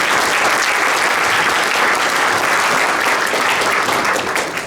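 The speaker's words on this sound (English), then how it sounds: "Let's give him a big applause as well" An audience at a Democratic judicial campaign event gives a field director loud, sustained applause, a thick, even wash of clapping from start to finish.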